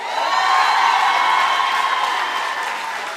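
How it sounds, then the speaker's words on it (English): A large university graduation crowd in Windhoek applauds the support staff on stage, a loud, dense wash of clapping with some cheering mixed in, steady throughout. "Can we make sure we give them also a round of applause?"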